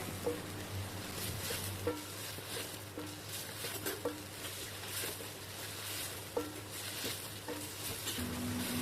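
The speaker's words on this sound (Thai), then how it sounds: "จากนั้นก็ผัดต่อค่ะ เราจะผัดให้ส่วนผสมเข้ากันค่ะ" Sponge gourd stir-fried in a pan with egg, a steady sizzle with a spatula scraping and stirring through it at close range, continuous and even, no voices.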